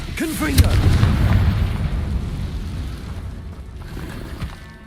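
Confringo fire spell bursting in Hogwarts Legacy, a deep booming blast near the start that rumbles and fades over several seconds, with a shouted voice over it.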